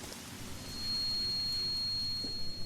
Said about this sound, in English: Okay, it is raining now.